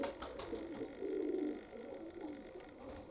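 Young pigeons coo softly and repeatedly in a low warbling rhythm, fairly close, with light fluttering and other faint outdoor sounds around them.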